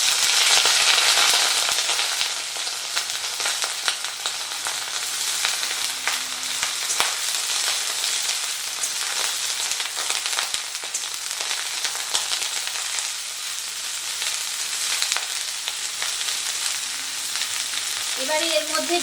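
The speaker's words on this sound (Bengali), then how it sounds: "তেলটা গরম হয়ে গেছে, তেলের মধ্যে এই কেটে রাখা ব্রোকলিগুলোকে দিয়ে দিচ্ছি।" Chopped broccoli fries in hot mustard oil in a wok, a loud, dense, continuous sizzle that crackles steadily throughout, with a brief faint voice at the very end.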